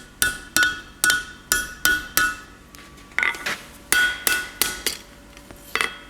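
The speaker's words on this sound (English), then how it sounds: "just want to bring it back onto the anvil and flatten it off" Hammer blows on hot iron over an anvil while forging a set eye hook, a close, bright series of about a dozen sharp metallic strikes in an uneven rhythm with short pauses between groups.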